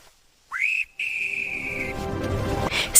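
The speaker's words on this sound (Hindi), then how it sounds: "तभी ताऊ ने तेज सीटी बजाई।" A loud, sustained whistle blown in a folk tale about geese and a bird-catcher: after a rising start it cuts off briefly, then holds one long, steady shrill tone alone.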